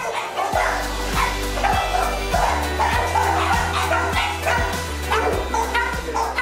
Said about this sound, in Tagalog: ang mga pedigree puppy at mga top breed na aso sa pamamagitan ng Bayabas Kennel mula sa Antipolo